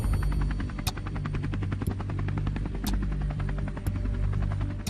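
A helicopter flies over the Mahakumbh gathering on Mauni Amavasya, showering rose petals on bathing pilgrims, its rotor thudding in a steady rapid pulse with a constant engine drone, moderately distant.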